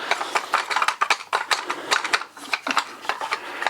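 Clamp jaws being undone on a Lyman Revolution heavy duty gun vise: a run of close, dry mechanical clicks and ratcheting rattles, irregular and fairly loud, with no talking.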